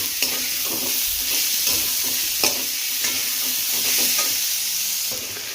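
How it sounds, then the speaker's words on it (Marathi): Onion being sautéed and stirred in a roasted masala paste for a dry potato dish, a steady close sizzle with repeated scraping stirs throughout and no talk. "छान कांदा मसाल्यात आपण परतून घेणार आहोत"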